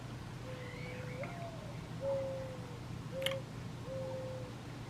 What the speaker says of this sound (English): The birds are like chirping like crazy.